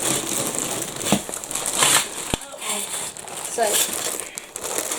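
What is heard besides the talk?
packet of 58mm badge backs being handled and opened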